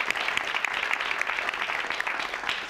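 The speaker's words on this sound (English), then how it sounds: "Let's give her a round of applause." Steady applause from a town hall audience welcoming a guest, a dense, even patter of many hands at moderate volume throughout.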